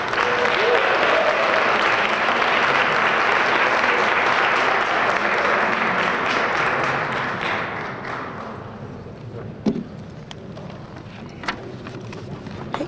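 A ceremony audience at a women's awards event applauds an honoree with sustained, dense clapping that tapers off over several seconds, leaving scattered claps and some room noise.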